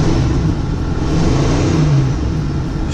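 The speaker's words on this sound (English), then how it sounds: "rev her up a little bit" An RV engine revving, a loud continuous mid-pitched engine drone rising slightly in speed with blower whir in the background, close by and without talk.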